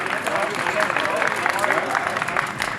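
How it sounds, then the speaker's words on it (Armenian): Studio audience in an Armenian TV studio breaks into loud, sustained clapping to welcome a jury member, a dense steady wash of applause filling the whole stretch. "Եկեք մի հատ բարձր ծափարություններով դիմավորենք այդ ժյուրին Արկադի Դոնիկյան"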